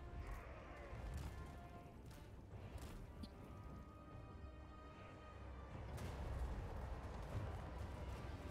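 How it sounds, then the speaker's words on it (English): Cannon fire and battle noise from Total War: Warhammer III, with a few dull booming shots over a rumbling battlefield background at moderate, fairly distant loudness, with some talk faintly mixed in. "I want to see this cannon fire."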